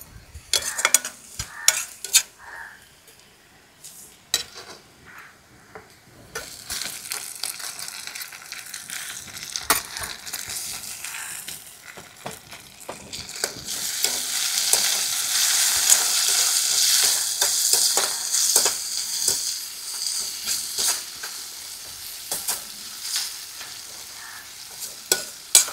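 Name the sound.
onions and tomatoes frying and being stirred in a pan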